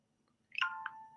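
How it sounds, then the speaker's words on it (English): A mobile phone gives a short, bright electronic notification chime: a quick rising burst of notes that settles into a clear ringing tone and fades, close and alone in a quiet room. "That's it, my phone blinging."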